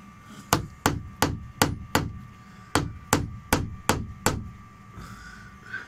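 Sharp hammer blows land in a steady series, about a dozen close, loud strikes with brief pauses between, then a quieter tail.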